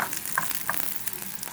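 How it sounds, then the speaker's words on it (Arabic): Onions and garlic fry with a bright sizzle while being quickly stirred in a pan, with a few short utensil scrapes over the steady hiss. "هقلب كده علشان يبقى اللون بتاعها موحد"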